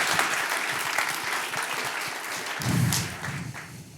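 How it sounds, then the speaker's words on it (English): A conference audience at a lightning-talk session claps warmly for a first-time speaker in a steady, dense round of applause that swells slightly midway and then begins to taper. "warm round of applause"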